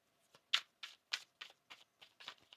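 Tarot cards being shuffled by hand, a run of about nine quick papery riffles and taps in an uneven rhythm, close and fairly soft in a quiet room.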